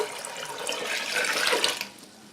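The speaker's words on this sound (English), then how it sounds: "I'm going to add enough water to cover them." Water from a tap streams steadily into a pot of black-eyed peas for about two seconds, then tapers off, with a bright rushing and splashing sound close by.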